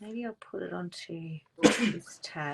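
A single loud sneeze bursts out midway through casual talk, with speech continuing before and after it.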